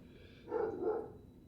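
A dog gives a single short, muffled bark or yip a short way off, heard in a home kitchen over a faint background hum.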